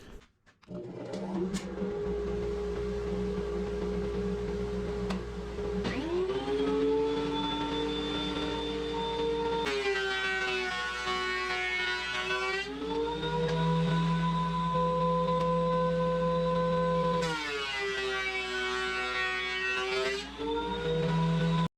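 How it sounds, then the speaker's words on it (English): A thickness planer feeds a wooden board through its cutter head, a loud steady motor whine with harmonic tones that rise and shift as the board enters and exits, repeating in bursts over a constant machine drone. "So let's just send this straight through the planer like this"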